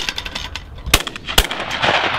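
Shotgun fire at an outdoor clay pigeon shoot in the countryside: two sharp, loud blasts about half a second apart, each cracking out over a low background rumble.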